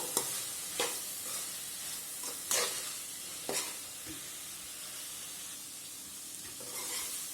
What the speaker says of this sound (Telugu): ఒక నిమిషం పాటు ఇలా బాగా కలుపుకుందాము